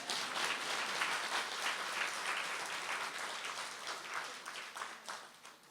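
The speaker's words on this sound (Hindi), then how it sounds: "भाई ताली तो बजाओ जरा" An audience at a spiritual class session claps together for about six seconds, a dense, fairly distant roar of applause that slowly thins and tapers toward the end.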